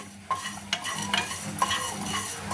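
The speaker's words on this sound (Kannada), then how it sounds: "ಇವನ್ನ ಮಸಾಲೆ ಐಟಮ್ಸ್ ಒಂದು ತಟ್ಟೆಗೆ ಹುರಿದು ತೆಗಿತಾ ಇದ್ದೀವಿ" Masala spices roasting in a hot pan for North Karnataka kattina saaru, with a steady soft sizzle and repeated scraping stirs of a spoon against the pan, close and alone.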